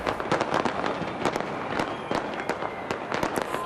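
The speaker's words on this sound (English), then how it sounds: "Fireworks lit up the sky behind the Sky Tower." Fireworks bursting over Auckland's Sky Tower during a New Year celebration, a rapid, continuous barrage of sharp cracks and booms throughout, with crowd noise faintly underneath.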